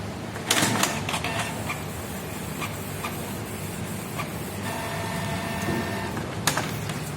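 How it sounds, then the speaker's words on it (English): A Canon G2010 inkjet printer prints a page, with soft mechanical whirring, paper-feed rattles and sharp clicks as the print head shuttles back and forth, close and fairly quiet. "So now it is printing the page."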